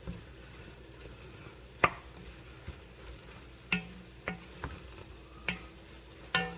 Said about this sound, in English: Mix that up. Get that a good mix.